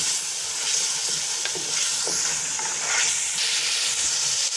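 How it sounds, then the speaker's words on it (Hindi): Mutton sizzles in a pot while aloo gosht is being cooked, giving a steady loud hiss of frying with a few scraping stirs and no talking. "जब तक गोश्त हमारा भून रहा है"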